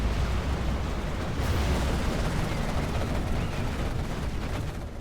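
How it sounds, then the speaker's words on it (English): Scud missile barrage in C&C Generals, a GLA match, heard as a dense, continuous roar of explosions and rumbling blasts that stays loud and steady throughout with no talk. "Marakar now firing the scud as well"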